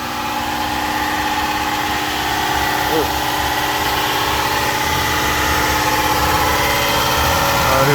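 A swapped engine in a 1997 Toyota Tercel runs at a steady loud idle close by, a constant rumbling drone with slight vibration, while a voice briefly exclaims over it.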